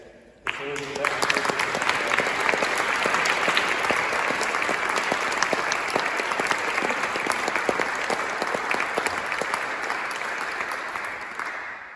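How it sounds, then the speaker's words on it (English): Sustained audience applause at a King's Award for Voluntary Service ceremony in Leeds, loud, steady clapping from a crowd lasting about eleven seconds after a sharp start, then fading slightly at the end. "I think we should have a round of applause for Kate."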